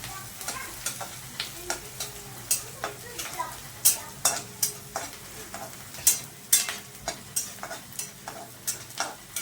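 Onions and green chilies fry in a pan while a spoon stirs them, giving repeated scraping clicks and taps in an uneven rhythm over a soft, steady sizzle, close by and moderately loud, with no talking.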